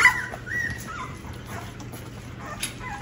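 Puppies whimper and yip faintly while being spoon-fed a taste of food, small soft cries scattered through a steady background hum.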